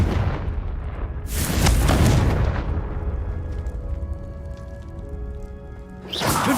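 A Confringo blasting spell explodes in Hogwarts Legacy with a loud, deep, close boom. It rumbles and fades over several seconds, and a second blast begins at the end.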